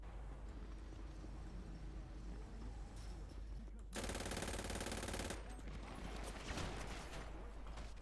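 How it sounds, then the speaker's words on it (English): Rapid bursts of gunfire in the video game GTA V, loud and sustained over a dense, noisy background with a harsh broadband stretch in the middle. "Shots fired again."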